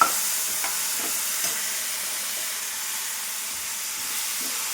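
Brinjal pieces frying in a pan, a soft continuous hiss of oil with a few faint scrapes and taps of a spoon stirring nearby.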